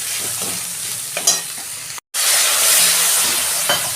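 Okra frying with cumin, coriander and chilli powder gives a loud, close sizzle broken by stirring scrapes, then a brief silence before the frying hiss returns strong and steady.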